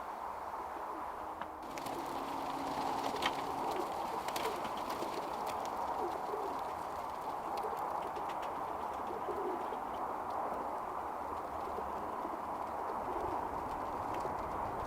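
Birmingham Roller pigeons, a kit just landed after flying, coo softly and continuously at moderate distance, with scattered light tapping and fluttering throughout.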